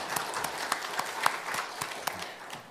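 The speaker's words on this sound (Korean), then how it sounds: "귀한 성경 봉독해 준 청년에게 우리 감사와 격려 박수하겠습니다" A small church congregation claps for a young scripture reader at an early-morning prayer service, a thin, scattered patter of hands with a few sharper individual claps standing out, steady and moderately near throughout.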